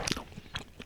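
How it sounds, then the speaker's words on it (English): A few quick crunchy bites into homemade pizza on a crusty baguette topped with stretchy melted cheese, close to the mic, with sharp crackling bursts separated by brief pauses. "Bite hard because the cheese is stretchy."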